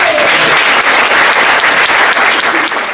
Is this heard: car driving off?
no